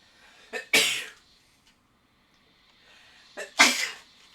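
Two sharp sneezes, each with a short sharp inhale before the burst, about three seconds apart and close up, with near silence between them.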